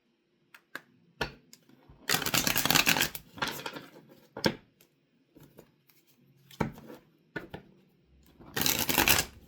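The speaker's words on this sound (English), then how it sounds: "I'm going to shuffle this one." Tarot cards are shuffled close up in two loud, rustling bursts of a second or so each, separated by scattered softer clicks and taps of card handling in a quiet room.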